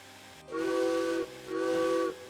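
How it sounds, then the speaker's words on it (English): A steam locomotive whistle in Derail Valley sounds twice, two clear, loud, sustained hoots of about three quarters of a second each, separated by a short gap over a faint steam hiss. "Hey, and a whistle that doesn't suck."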